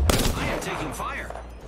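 Rapid gunfire in the battle royale shooter Apex Legends, a dense burst of shots packed close together over a steady game backdrop, with the player's own voice talking over it.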